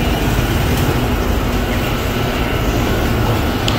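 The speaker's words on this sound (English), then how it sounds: "That's the sound of generator." Generator running on a downtown street in Puerto Vallarta, Mexico, giving a steady, loud, broadband mechanical hum that holds unchanged throughout, with no talking.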